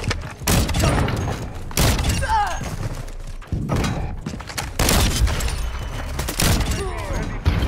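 Sniper rifle fire in a video game with a red dot sight, heard as several loud, sharp broadband shots and thumps mixed with chaotic game noise, while players talk over the action.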